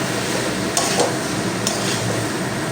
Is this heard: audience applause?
no